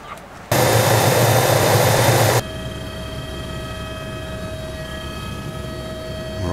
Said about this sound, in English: We're off in the helicopter